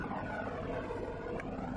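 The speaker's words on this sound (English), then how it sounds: "There's the sheriff helicopter." A sheriff's helicopter in flight gives a steady, broadband engine and rotor rumble that holds even and unbroken throughout, heard alone without voices.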